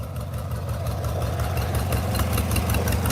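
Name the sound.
engine running, said to sound lean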